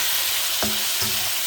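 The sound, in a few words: tomatoes sautéing in a pan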